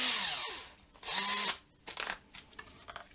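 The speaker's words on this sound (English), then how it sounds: "let's take our drill and our screw" A power drill whirs in two short bursts, rising and falling in pitch, as it drives a screw into a guitar body, followed by quieter clicks and handling knocks.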